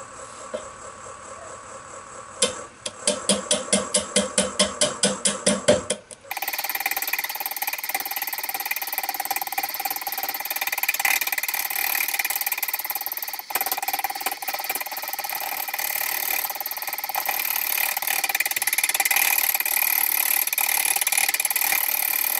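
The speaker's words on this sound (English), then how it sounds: "I'm going to start off with a 1-inch round nose just to get it started, and then I'll progress to my bowl gouge." A wood lathe spinning at 275 RPM turns a mesquite bowl as a 1-inch round nose chisel cuts, a steady scraping hiss after a short burst of rapid clicking, fairly quiet and close with no talk.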